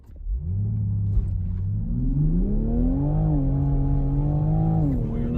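A Toyota Supra launches hard from a standstill using launch control, its engine droning loud and steady as the pitch climbs smoothly through the run with a brief dip near the end.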